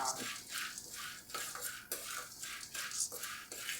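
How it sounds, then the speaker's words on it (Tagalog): Popcorn kernels stirred in a decades-old frying pan give a rhythmic scraping and metallic clinking with each stroke, repeated about every half second. A faint sizzle runs underneath, and there is no talk. "Haluin na siya, haluin. Hanggang sa magputukan na naman sila."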